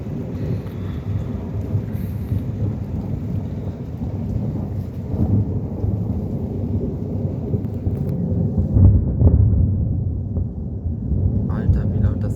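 A thunderstorm on an evening at the Wolfgangsee, with deep rolling thunder rumbling continuously, swelling toward the end over a steady wash of rain, loud and enveloping.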